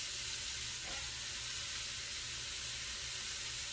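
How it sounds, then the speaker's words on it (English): Celery and onion sauteing in melted butter, with bacon cooking alongside for clam chowder, give a steady, close sizzle that holds evenly throughout with no talk. "I'm going to put in my celery and my onion. So I'm sauteing that"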